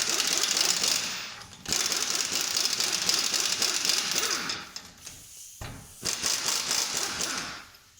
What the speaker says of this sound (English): you're gonna take a 21 millimeter socket and you're gonna gun this nut off here at the bottom that holds it to the knuckle